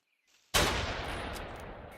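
Gunfire in the video game Fallen Earth, a single sharp shot bursting in after a brief silence and ringing out with a decaying tail.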